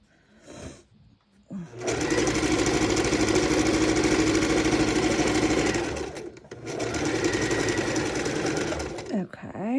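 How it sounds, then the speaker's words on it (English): Sewing machine stitching quarter-inch seams around fabric squares on a folding table, running in two long steady bursts of rapid rhythmic whirring and clatter separated by a short pause, with quiet sounds before and after. "we're going to go ahead and stitch 1/4 inch around all 4 sides."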